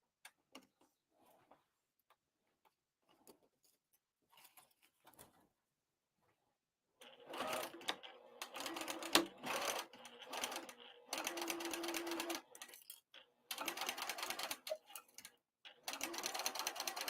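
A sewing machine stitches a narrow seam allowance on a crossbody bag lining at short stitch length, starting after faint handling noises with several loud, rapid bursts of whirring stitching separated by brief pauses.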